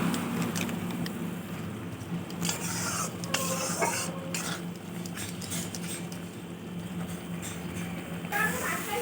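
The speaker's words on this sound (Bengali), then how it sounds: "সব ভালো করে একসাথে মিশিয়ে কষিয়ে নিতে হবে" Prawns cooked in mustard paste with masala and clove powder are stirred and fried in a pan, giving a continuous scraping and sizzling texture with irregular rasps throughout.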